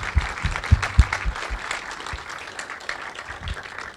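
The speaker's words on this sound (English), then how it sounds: "So let's give a big round of applause to the panelists and Pietri." Scattered applause from a group at a panel discussion, uneven and moderately loud at first, tapering off over a few seconds with some background murmur.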